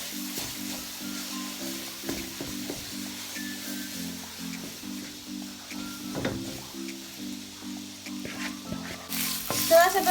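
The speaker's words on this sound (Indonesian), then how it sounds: "Lalu kita aduk dengan cepat. Kita aduk sampai benar-benar kalis." Potato dough stirred quickly in a hot pan until smooth, giving a steady sizzle under rhythmic, repeated scraping strokes of the spoon, close and moderately loud throughout.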